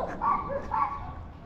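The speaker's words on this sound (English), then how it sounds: "I got all kinds of dogs barking." A couple of dog barks from several excited dogs, fairly close, spaced a moment apart against a faint outdoor background.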